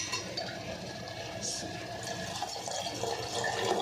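Water is poured into boiled toor dal (pigeon pea lentils) in a village-style kitchen, a continuous close splashing and trickling with faint clinks throughout.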